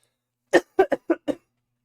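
Five sharp coughs in quick succession, close and fairly loud, with short gaps between them and silence after.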